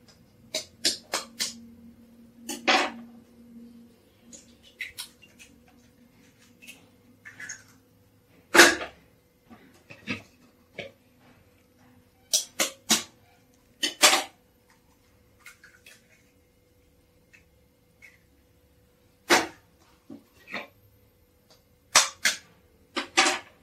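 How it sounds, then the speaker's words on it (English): Eggs for a chocolate pudding are cracked in a kitchen, heard as sharp, isolated taps and cracks scattered irregularly over a quiet background. "First of all, I'll break the eggs."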